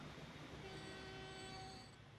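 A freight train pulling away in the Transport Fever game, with sustained steady tonal horn-like lines over a continuous rolling rumble, quiet and even throughout.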